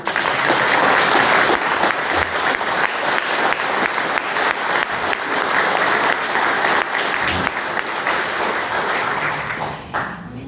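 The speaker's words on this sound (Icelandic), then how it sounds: "við myndum gefa Jóni Bjarnasyni gott klapp fyrir hans framlag" Sustained, dense applause from an audience at a symposium on democracy and sovereignty, loud and steady for about ten seconds before tapering off at the end, with almost no talk.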